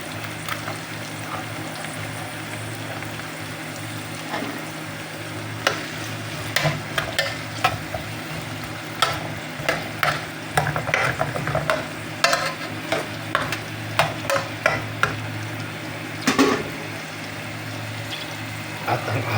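Onion sautéing in a pan for eggplant adobo: a constant close sizzle, with a run of sharp utensil scrapes and clacks against the pan in the second half.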